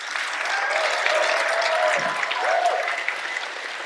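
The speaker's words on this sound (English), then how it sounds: "let's give a huge round of applause right here." Audience at a live panel discussion on mainstream media applauds steadily, a dense sustained clapping that fills the room for several seconds at an even level, with no talking over it.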